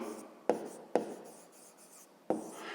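Pen writing on paper during a fifth-grade math lesson: a soft continuous scratching with three sharper taps as strokes begin, close and quiet, no voice.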